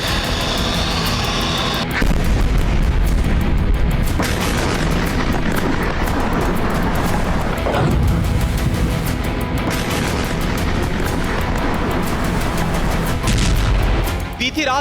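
Russian bombardment strikes Odesa's coastal and residential areas: loud, continuous booming blasts and heavy rumble, with a voice speaking over the din.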